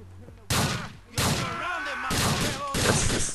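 Four heavy shotgun blasts boom at uneven intervals in an open-world crime game, each loud and close with a ringing tail, while someone talks in German over the shots.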